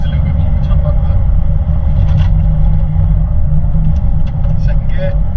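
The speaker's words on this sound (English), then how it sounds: "I have a driving R8 V8 manual" A manual Audi R8 V8 while driving: a loud, steady low engine drone and road rumble from inside the cabin, continuous throughout, with a voice speaking over it.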